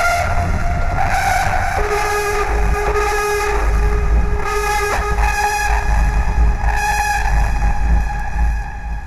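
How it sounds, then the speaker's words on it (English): A loud, harsh screech synth layer for a hardstyle track plays continuously for about nine seconds, a buzzing, horn-like sustained tone whose pitch steps and shifts, with no voices over it. "this is kind of a screech"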